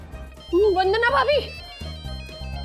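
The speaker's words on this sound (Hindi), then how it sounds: "हर्षद का फोन है मेरे 1 लाख के मोबाइल पर।" A mobile phone ringtone plays a loud, bright warbling melody nearby, with steady lower musical tones continuing underneath.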